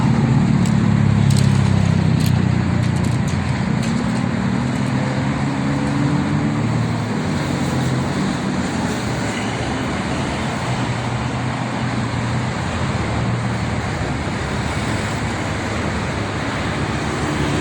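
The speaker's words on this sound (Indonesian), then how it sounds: "Ini yang macet total yang mau masuk ke rest area." Gridlocked post-holiday traffic on the Jakarta–Cikampek toll road near Bekasi and Cikarang makes a dense, steady roadway rumble with engine drone and passing-vehicle wash, loud and continuous with no clear breaks.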